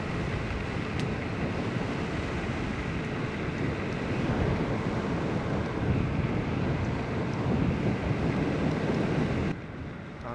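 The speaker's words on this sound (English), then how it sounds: "Whoa, I am definitely going against the wind." Strong, steady wind roar buffets the microphone while a Varla Eagle One electric scooter rides straight into a headwind, a continuous broadband rush that drops abruptly near the end.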